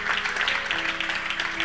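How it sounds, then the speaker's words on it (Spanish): Church congregation clapping in praise to the Lord, steady dense applause filling the room, with a faint sustained tone held underneath. "Démosle un aplauso al Señor"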